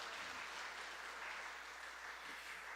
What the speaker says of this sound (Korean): 우리 다시 한 번 더 하나님께 영광의 박수를 드리겠습니다.